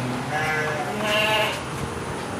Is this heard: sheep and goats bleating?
yes